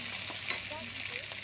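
Spice masala with green chillies and cumin paste frying in a pan, a steady faint sizzle with soft stirring scrapes close by.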